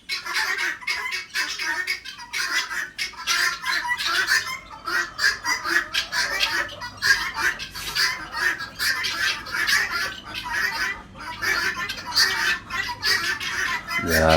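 Roosters and chickens at a forest resort near Koyna, a busy flock clucking and crowing repeatedly at close range, with a voice talking faintly underneath.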